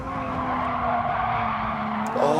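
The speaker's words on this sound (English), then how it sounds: "they are burning their tyres" Race car tyres squeal in a sim racing game, a loud sustained screech layered over engine drone for a couple of seconds, with a brief rise near the end.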